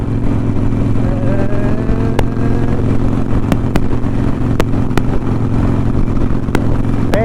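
Motorcycle ridden on a cold 45-degree day to fetch fuel, with a loud, constant engine drone and wind rush close by and occasional sharp ticks and clicks over it.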